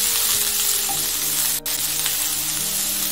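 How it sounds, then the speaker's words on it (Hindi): Green chillies and onions sautéing in a hot pan, a steady, loud, close sizzle of frying throughout, with a brief dip in the middle. "थोड़ा सॉटे कर लेंगे अनियन को।"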